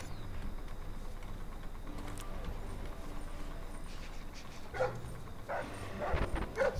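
A dog in the stealth video game Splinter Cell Blacklist barks and yips in short bursts, fairly faint at first and louder near the end, over low game ambience.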